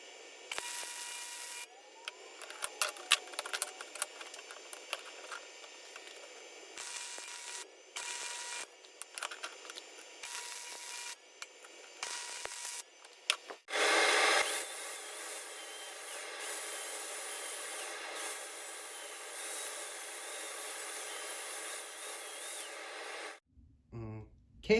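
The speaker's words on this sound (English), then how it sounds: "So let me get this welded on and I'll be right back." Metal parts of a hot rod Radio Flyer wagon being welded: bursts of crackling and buzzing arc noise with pauses between, then one long steady hissing weld that cuts off abruptly near the end, with no talking.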